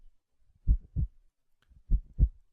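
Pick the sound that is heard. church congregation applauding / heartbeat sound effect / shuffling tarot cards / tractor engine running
heartbeat sound effect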